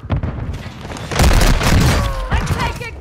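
Heavy booming gunfire in Call of Duty Warzone 2 comes as a loud cluster of shots and impacts over dense game noise, with a voice talking over it.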